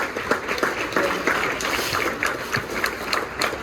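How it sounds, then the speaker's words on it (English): Audience at a varsity baseball banquet applauding, a dense steady patter of many hands clapping at moderate distance, without talk. "Let's give him a round of applause."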